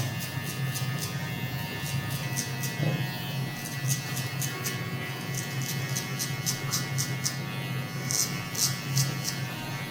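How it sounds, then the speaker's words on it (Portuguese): Electric hair clipper fitted with a number 1 comb guard, cutting hair in a fade haircut: a steady close buzzing hum running throughout, with rhythmic crisp snipping pulses as the blades pass through hair. "Agora você vai passar a máquina saindo no pente 1 até um pouquinho mais em cima"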